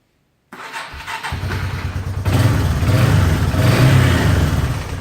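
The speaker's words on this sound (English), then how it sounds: "Got it all buttoned up, and let's see how she's going to start." A Yamaha Bear Tracker 250 ATV engine cranks over from silence, catches and settles into a loud, close, steady running rumble that rises in level partway through.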